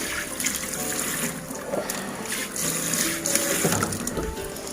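Water dripping and trickling from a wet mop hanging on its handle after floor mopping, a continuous splashy patter with irregular louder drips, close and steady, no talking.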